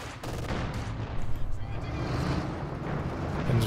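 A Company of Heroes 2 battle plays out with tank and gun fire from a T-70 and other armour, heard as dense, rumbling booms and rattling shots. A commentator talks over the noise.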